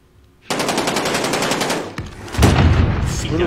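Rapid automatic gunfire from a video game rattles loudly and continuously, followed by a burst of heavier, booming shots near the end.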